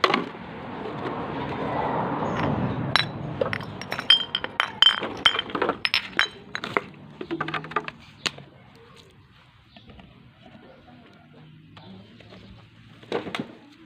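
Glass bottles and jars clink and knock together as scrap is sorted by hand for resale, a busy run of sharp, close clinks that thins out to a few scattered taps near the end, with no talk.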